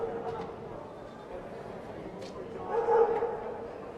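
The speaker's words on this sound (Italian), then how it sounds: "Abbiamo anche 2 cani che ci tengono compagnia." Dogs bark at an indoor volleyball match, a few yips and barks rising over steady crowd noise and commentary, loudest near the end.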